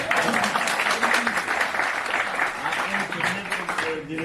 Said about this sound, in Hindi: अब ताली बजा दीजिए तो सुना दूंगा।